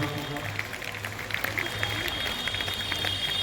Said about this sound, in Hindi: जोरदार तालियों से स्वागत करेंगे मुख्य अतिथि का